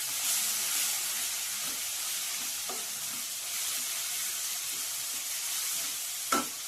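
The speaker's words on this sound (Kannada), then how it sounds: "ಮಸಾಲ ಎಣ್ಣೆಯಲ್ಲಿ ಫ್ರೈ ಆಗಲಿ ಸ್ವಲ್ಪ" Masala spices fry in hot oil for a Karnataka-style bass saaru, giving a steady, close sizzling hiss that holds evenly throughout, with a few soft stirring knocks and a brief sharper crackle near the end.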